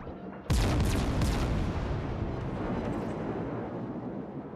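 A ripple-fire salvo erupts in a video game battle, a sudden loud boom that opens into a long rolling roar of launches and blasts, gradually fading without speech.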